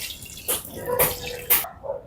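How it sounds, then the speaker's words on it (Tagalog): Water poured into a pot of milkfish for sardine-style cooking, a close splashing, gurgling pour in a few uneven surges before it trails off, with no talking. "Lagyan natin ng tubig."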